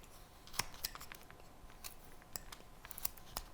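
A carving knife removing wood while carving a curl in a figure's hair: sparse, faint crisp snicks and cuts scattered at irregular intervals over quiet background.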